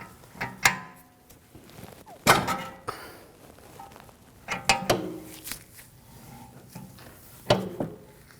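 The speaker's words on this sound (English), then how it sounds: "As I tighten it, it's going to pull the bearing right into that cup." Rear wheel bearing of a 2007-2013 BMW 328i being pressed into its cup with a tightening tool: irregular metallic clunks, ratcheting knocks and scraping creaks, several sharp loud bangs at intervals, close by with no talk.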